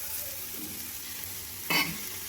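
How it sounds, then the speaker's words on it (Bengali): Prawns frying with ridge gourd and spices in a pan, a steady soft sizzle with light stirring, then one brief louder scrape or burst of spatter near the end. "এবার আমি চিংড়ি মাছটা দিয়ে আবার ভালোভাবে একটু ভেজে নেব"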